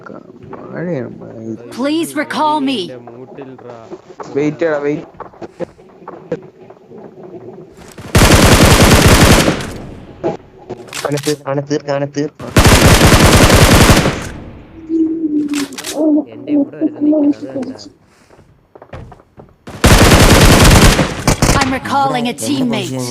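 Several loud bursts of rapid automatic gunfire in the game BGMI alternate with stretches of someone talking.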